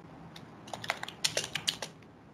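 Soft, close clicks of typing on a computer keyboard come in a short irregular burst of about a dozen keystrokes over quiet background, with no talking.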